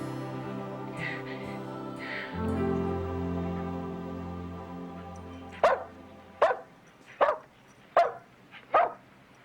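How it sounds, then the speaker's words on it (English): A dog barks five times in a steady, evenly spaced series, close and loud, following a stretch of low sustained background sound. "Damn dog."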